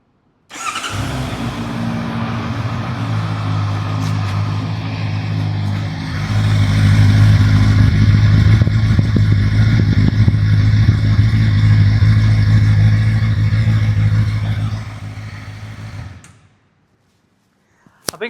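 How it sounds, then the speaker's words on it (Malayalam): A Honda CBR650R sport motorcycle starts up and settles into a steady, loud inline-four exhaust note. The engine rises to a fuller, louder drone midway through, then cuts off abruptly, leaving silence. "നമുക്ക് ഈ വാഹനത്തെ സ്റ്റാർട്ട് ചെയ്തിട്ട് ഇവൻ്റെ എക്സോസിനോട്ടൊന്ന് കേൾക്കാം"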